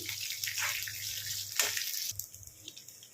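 Curry leaves fry in oil over a low to medium flame for a spicy powder, giving a close, steady sizzling hiss that softens after a couple of seconds.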